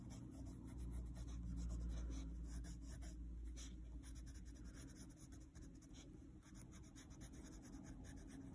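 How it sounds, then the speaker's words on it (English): A white pencil blending colored pencil on paper: steady, soft scratching and rubbing strokes, close and quiet, continuing for several seconds with no talk. "you can go in where the white areas are with a white pencil and just blend those all in together"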